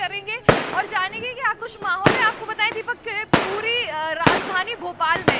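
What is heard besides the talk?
firecrackers and fireworks going off during celebration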